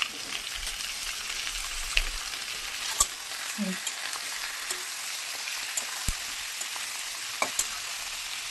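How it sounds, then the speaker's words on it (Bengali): Chicken feet drop into a pan of fried onions and sizzle quietly and steadily, with a few sharp clicks of stirring throughout. "পেঁয়াজ দেখছো ভাজা ভাজা হয়ে গেছে এর মধ্যে আমি দিয়ে দেবো মাংসগুলি পাটা"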